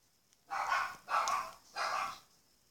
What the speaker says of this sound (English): There's all that barking!